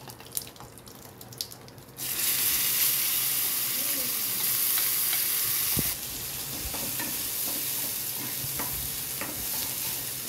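Tomato chutney with curry leaves is stirred in a pan, a steady scraping swish over a continuous sizzle and running-water hiss that shifts slightly partway through, with no talk.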